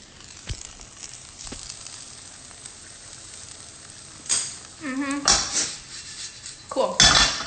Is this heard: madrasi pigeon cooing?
no